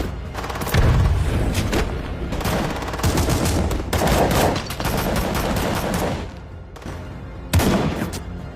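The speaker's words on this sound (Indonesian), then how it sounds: "terjadilah aksi tembak-tembakan" Rapid, dense gunfire in a film shootout, with booming shots and bursts of automatic fire, loud and continuous over a thick, chaotic action soundtrack.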